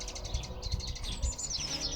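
Sparrows chirping outdoors, a quick run of high, thin chirps repeating steadily and fairly faint, over low background rumble.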